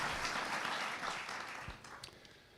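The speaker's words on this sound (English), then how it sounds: "let's give our panel a great round of applause" Steady applause from an audience honoring a discussion panel at an education forum, a dense wash of clapping that holds for the whole stretch and thins slightly near the end.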